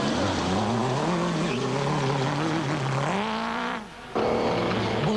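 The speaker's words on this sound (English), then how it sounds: "eorge in the O'Hagan's Kopenhagen Hotel BMW-powered Jimco, now fitted with 35-inch tyres all round" A BMW-powered Jimco off-road race car on 35-inch tyres during the Sugarbelt 400 of 2002, its engine droning loud and close with wavering revs, a brief dip as it lifts off, then a hard pull back on throttle.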